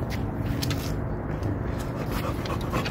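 An American Bully dog panting rapidly with soft whimpers mixed in, close by, along with faint shuffling steps and small mouth noises, no speech.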